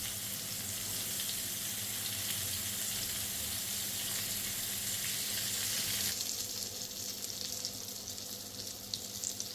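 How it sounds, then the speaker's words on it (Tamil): Chicken seekh kebabs fry in oil on a dosa griddle, giving a steady close sizzle throughout with faint water or stirring noises, and no talk. "அடுத்ததாக நான் தோசைக்கல்ல கொஞ்சம் எண்ணெய் சேர்த்து இந்த சிக்கனை நான் ஃப்ரை பண்ணி எடுக்க போகிறேன்."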